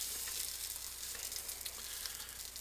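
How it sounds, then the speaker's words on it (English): Salted butter sizzles in a pan on the stove as the first step of cream of mushroom soup, a steady close hiss and crackle that holds without a break and with no voices. "of salted butter into the pan"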